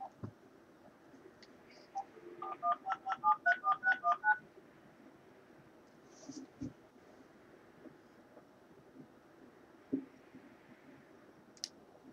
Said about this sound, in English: Okay, I'm gonna call my friend about that.